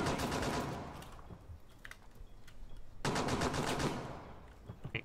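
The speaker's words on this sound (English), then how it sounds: "He's trying to shoot through the fucking wall." Rapid automatic gunfire fired through a wall in a tactical shooter video game, arriving in two loud, dense bursts of rattling shots with a quieter stretch of scattered pops between them.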